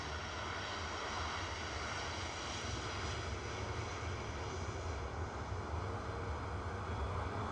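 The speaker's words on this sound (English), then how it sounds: "lining up from Victor Bravo to Marrakesh EIEBO with flight 6480 737-800" Boeing 737-800 lining up for departure to Marrakesh at Manchester Airport, a steady low jet engine rumble with a faint whine above, distant and even, with no voices.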